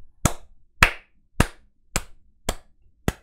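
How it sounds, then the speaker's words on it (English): Six slow, single hand claps spaced about half a second apart, close and crisp, with silence between each, given by one person on a casual stream as a mock round of applause. "Come on, round of applause, guys."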